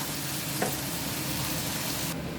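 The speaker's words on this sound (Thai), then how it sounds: "ขออนุญาตผัดหมูนะคะ" Minced pork with garlic stir-frying in a pan, a steady close hiss of sizzling with a brief scrape of stirring early on, no voices.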